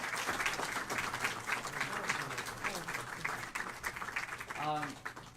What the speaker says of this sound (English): Can we give Imam Mobeen a round of applause?